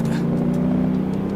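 Mercedes W211 E63 AMG driving hard on a race track, a steady loud engine drone with a strong low hum, continuous throughout, no talking.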